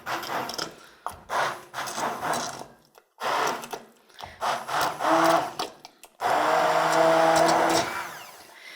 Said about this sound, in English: Now the other nice thing about using an immersion blender is you can choose how pureed you want your soup.